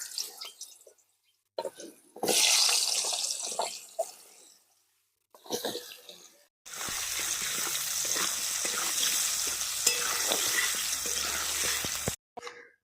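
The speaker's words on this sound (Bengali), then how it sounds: "আলুগুলো সব দিয়ে দিচ্ছে আলুগুলো দিয়ে ভালো করে ভেজে নেবো" Potatoes fry in mustard oil with turmeric. Short bursts of loud, close sizzling alternate with pauses, then a long, steady crackling sizzle continues until a sudden stop.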